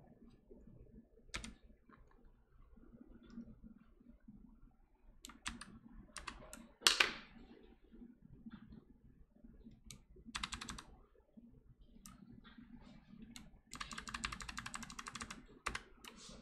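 Keys on a computer keyboard are pressed during step-by-step debugging of a C program, heard as quiet, scattered clicks that sometimes come in short rapid bursts, with no talking.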